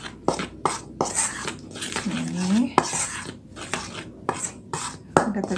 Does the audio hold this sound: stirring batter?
yes